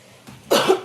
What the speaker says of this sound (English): I might be coughing here.